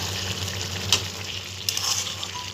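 Bottle gourd and pre-fried shrimp stir-fry over high heat with a dense, steady sizzle, broken by two sharp scrapes of a spatula against the pan, close and moderately loud.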